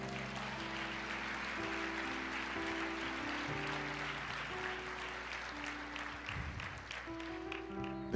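A church congregation applauds steadily throughout, a continuous even wash of clapping heard at a moderate distance with soft music or voices underneath.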